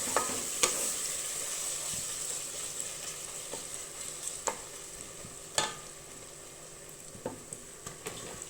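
Ginger, garlic and tomato sautéing in a pot for a low-budget chicken biryani, a soft, steady sizzle with scattered sharp ladle taps and scrapes.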